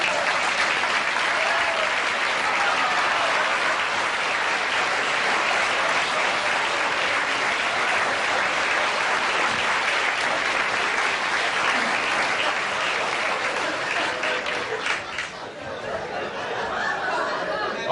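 A television studio audience at a 1982 late-night talk show breaks into loud, sustained applause, a thick wash of clapping with a little chuckling and chatter mixed in, tapering briefly near the end before picking back up.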